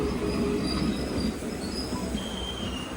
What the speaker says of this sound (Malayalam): 9:02 നീഡാമംഗലത്ത് നിന്ന് ഇതാ ട്രെയിൻ എടുത്തിരിക്കുകയാണ്.